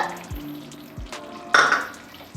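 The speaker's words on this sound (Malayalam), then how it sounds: "ഒന്ന് ഇളക്കി യോജിപ്പിക്കാം." A spoon scrapes and stirs poha halwa in a pan, cooked with cardamom and cashew powder. Several distinct scraping strokes clatter against the metal over a low sizzle, with one louder clank near the end.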